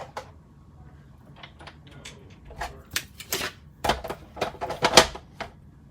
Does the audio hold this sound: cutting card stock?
yes